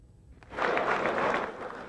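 A round of applause for Mikhail Gorbachev in Boris Yeltsin's Russian parliament during the 1991 Soviet coup crisis; a large hall of dense clapping begins abruptly and holds steady, slightly distant.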